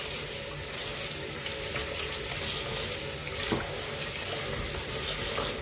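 Tap water runs steadily into a bowl to soak freshly harvested watercress, a continuous splashing hiss at close range with no talking.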